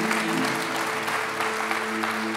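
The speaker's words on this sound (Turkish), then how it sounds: "Alkışlıyoruz İnci Hanım'a efendim." A television studio audience applauds steadily to welcome a guest on a Turkish show, dense clapping filling the whole stretch at an even, fairly loud level.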